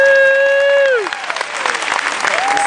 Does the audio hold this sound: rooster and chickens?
no